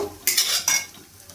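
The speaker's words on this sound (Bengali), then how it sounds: "ডিমটাকে আমি ভালো করে ঝুরঝুরে করে ভেজে তুলে নেব" Egg being stir-fried in a wok for egg fried rice, heard as two quick scraping stirs of a utensil against the pan with faint sizzling between, close and without talk.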